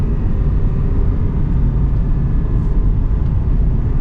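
Aston Martin Vantage V8 with a manual gearbox, heard from inside as a steady, loud low engine drone and road rumble while driving, with no clear rev spikes.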